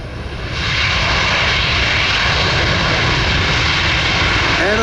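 A C-17 jet landing with its engines thrown into reverse thrust at an airshow: a loud, broad roar that swells within the first second and then holds steady and powerful, heard from nearby with no talk.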